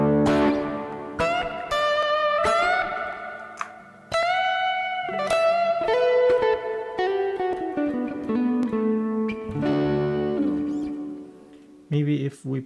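Clean electric guitar played through a Harley Benton American TrueTone amp on the bridge pickup, single notes and chords ringing with sustain and pauses between phrases, close and fairly loud, no talking.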